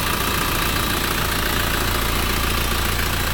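A steady, loud V8 engine idle from a Land Rover Discovery 4.0 rumbles continuously with a dense, hissy texture and no variation in pace.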